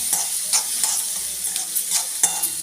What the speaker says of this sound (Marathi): 2 कांदे घेतले मी मोठे, त्याला छान तळून घेते कांदा मी.